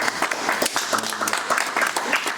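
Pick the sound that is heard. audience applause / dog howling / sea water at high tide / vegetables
audience applause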